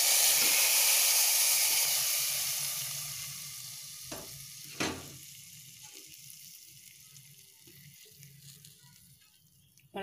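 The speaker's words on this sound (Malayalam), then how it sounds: "അത് എണ്ണയിലൊന്ന് ചൂടായി കഴിയുമ്പം നമുക്കിത് കറിയിലേക്ക് ഒഴിച്ചു കൊടുക്കാം" A pinch of garam masala sizzles and fries in hot oil for a roasted-coconut egg curry, a steady close hiss that slowly fades, with a couple of brief clinks of a utensil against the pan.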